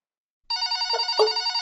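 A telephone rings in one steady, bright electronic burst that starts abruptly and carries on alone, loud and close, with a brief warble partway through.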